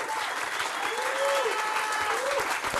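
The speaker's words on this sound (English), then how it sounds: "Let's applaud that." A crowd at a mayor's development announcement applauds in a sustained, even roar of clapping throughout, with a voice briefly calling out over it.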